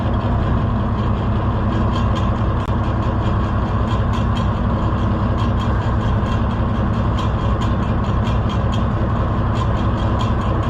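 A tractor engine runs at a loud, steady idle up close, a constant low rumble that holds unchanged throughout with no voices.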